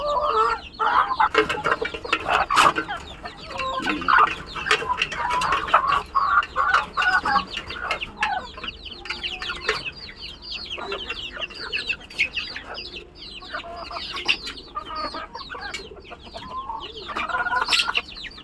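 A flock of chickens clucks and squawks busily and close by while being fed insects, with overlapping calls from several birds throughout.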